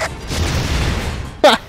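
Enemies blow up in the video game Family Guy: Back to the Multiverse, a deep rumbling boom followed by a short, sharp burst near the end.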